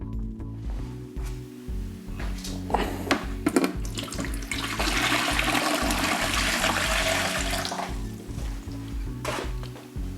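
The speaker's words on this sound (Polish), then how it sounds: "do filtra wodnego wlejemy około 2 litrów czystej wody" Water pours steadily into a vacuum cleaner's water filter with a rushing, gurgling splash that swells in the middle and then tapers, accompanied by faint clicks and handling noises.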